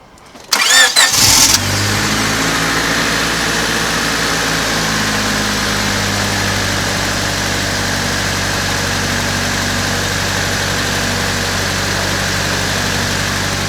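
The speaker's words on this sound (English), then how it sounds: "just fire it up, pray for the best, and leave it running for a little while" A 1999 Honda Civic coupe engine cranks briefly and catches, then settles into a steady, loud, close idle that hums on evenly with no voices.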